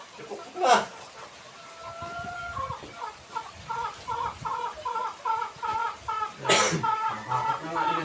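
Mother hen clucking in short repeated bursts at moderate distance, with a couple of sharp louder noises and quiet voices in the background.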